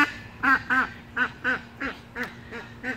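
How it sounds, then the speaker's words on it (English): A single duck quacks loudly nearby in a garden, giving about eight evenly spaced quacks in quick rhythm over faint background noise. "I've got a duck that has been very, very noisy all day."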